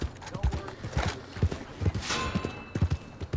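Horse hooves in the video game Red Dead Redemption 2 clatter in a quick, steady clip-clop rhythm. The beats are close and fairly loud, with a brief whinny-like sound partway through.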